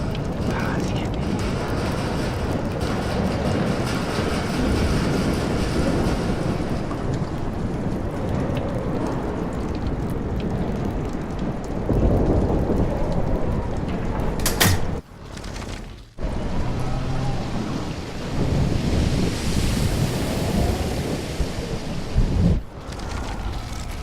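Heavy rain pours steadily through a thunderstorm in the video game Life is Strange, with rumbling thunder rolling beneath, a sharp crack partway through and brief dropouts.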